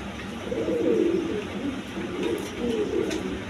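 Pigeons cooing while feeding their chicks, with soft, throaty coos rolling in close, repeated waves against a light background hiss.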